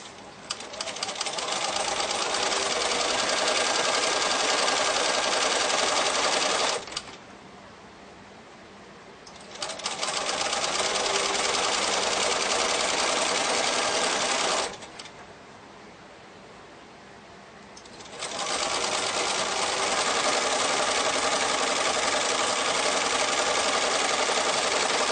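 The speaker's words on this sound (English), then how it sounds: "now I'm going to sew a 1/4 inch all the way down" Sewing machine stitching a quarter-inch seam on quilt fabric, loud steady close-up whirring in three long runs separated by short quieter pauses.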